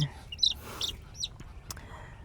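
A mother hen clucks near her chicks, with brief soft chirps and clucks scattered among low background noise while a person talks faintly nearby.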